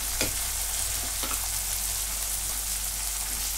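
Tomato sizzling with browned onion in a hot pan, a steady bright frying hiss with a few soft stirring scrapes near the start, close and even, no talk.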